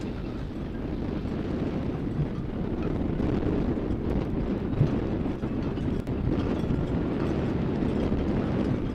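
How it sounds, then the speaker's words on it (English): Wind buffeting a camera microphone near docked cruise ships, a constant low rumbling roar with gusty fluctuations filling the whole stretch. "Oh, it sounds like it's getting windy, doesn't it?"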